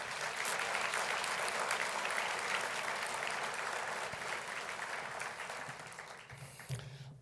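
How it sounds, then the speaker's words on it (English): Conference audience applauding vendors at an opening plenary, a dense wash of clapping filling the hall, steady for several seconds and then thinning out toward the end. "I would kindly like you to give a round of applause for our vendors."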